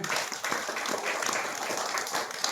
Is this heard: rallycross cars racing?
no